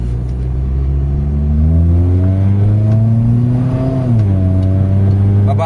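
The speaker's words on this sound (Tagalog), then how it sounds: "test drive tayo" A Honda car engine on a test drive revs up steadily with a rising tone, eases briefly and climbs again, loud and close throughout, with no talk.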